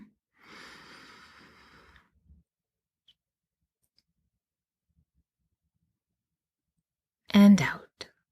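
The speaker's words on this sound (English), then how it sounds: "when you breathe in, count to 4 and then breathe out" During a breathing exercise, a person draws one long, soft inhale through the nose. Near silence follows, and a short, louder breathy burst comes near the end.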